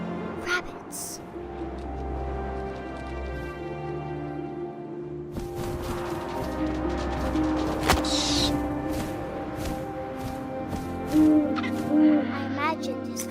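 Owl hoots in the video game What Remains of Edith Finch, rising over a layered ambient score with low wind-like drones and a few soft thumps, with a voice speaking intermittently.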